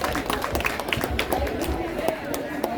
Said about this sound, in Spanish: brindémosle un aplauso a Ángela